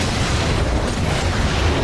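Grenade explosions in the video game Marvel Heroes 2015 form a loud, dense, continuous roar of overlapping booms and blasts with no pause.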